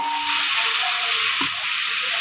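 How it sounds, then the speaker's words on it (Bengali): Potatoes seasoned with chili, turmeric and salt sizzle and fry in hot oil, a steady, loud crackling hiss that holds for the whole stretch with a faint stir partway through. "তেল গরম হয়ে গেছে, এখন আলুগুলো হচ্ছে দিয়ে দেবো তেলে।"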